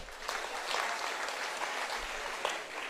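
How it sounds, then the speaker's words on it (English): Audience applause at a centenary celebration of the Uganda Girl Guides Association, with steady clapping from a crowd sustained evenly for about three seconds at moderate loudness, without talk. "Can you clap for them?"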